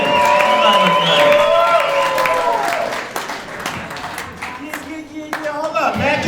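A comedy showcase audience claps and cheers for a comedian, with loud, dense applause and whoops that fade somewhat midway and then carry on under someone talking.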